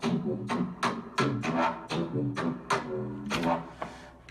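Bass line fillers in an electronic dance track play as short, punchy repeated notes with sharp attacks, a quick uneven rhythm of about a dozen hits at moderate loudness, alone without voices.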